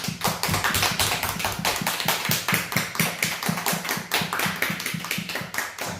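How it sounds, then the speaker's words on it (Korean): A church congregation claps steadily in thanks to God, many hands striking in a fairly regular rhythm with sharp, close, even beats throughout. "하나님 앞에 감사의 박수."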